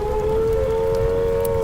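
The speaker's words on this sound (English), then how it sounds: "A wavering, undulating sound on the outdoor sirens lasting 3 to 5 minutes." Outdoor civil defense siren sounding the attack warning, a steady loud droning tone with a faint wavering quality over a background hiss.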